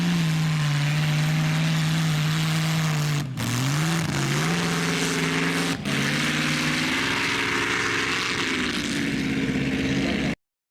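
A European classic or exotic car engine roaring while driven on snow and ice, a loud, steady, droning note held for several seconds, with two brief dips and pitch shifts as the revs change.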